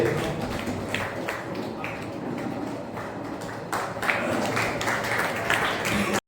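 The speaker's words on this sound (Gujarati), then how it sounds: "ઉપપ્રમુખ તરીકે તાળીઓના ગડગડાટથી વધાવી દઈએ." An audience at a community gathering applauds to welcome a newly appointed vice-president, with steady, sustained clapping from many people and some voices mixed in.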